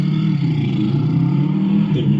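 Engine of a chhakda, a three-wheeled utility vehicle, revving steadily and loudly at close range throughout, with a low, even drone and a slight rise near the end; no voices.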